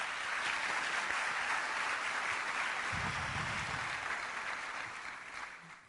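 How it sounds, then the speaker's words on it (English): At a public lecture at a university, a steady round of audience applause runs for several seconds and gradually fades near the end. "May we please give her another round of applause to acknowledge her."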